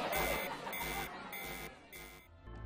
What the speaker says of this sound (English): an alarm began to sound, creating panic throughout the school